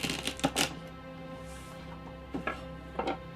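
A kitchen knife cuts the ends off celery on a cutting board: a few sharp close chops in a quick cluster at the start, then two more isolated cuts after a pause, with no talk.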